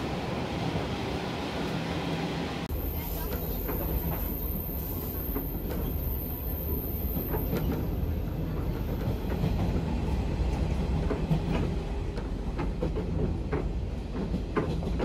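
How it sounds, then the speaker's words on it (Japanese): The Ibusuki no Tamatebako train rolls through Kagoshima city streets with continuous rumbling and faint rhythmic wheel clatter, plus a thin high whine in the first half, heard from inside the carriage. "列車は市街地を走ります。"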